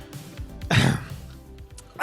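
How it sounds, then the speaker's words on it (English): A single harsh cough or throat-clearing bursts out amid a cloud of hairspray, close and brief, with a smaller rasp starting at the very end. "Coughing through the hairspray."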